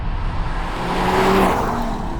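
A 2025 Audi RS3's five-cylinder engine held high in the revs, a steady, loud rasping drone with rising tonal lines as it climbs, heard alone without talk.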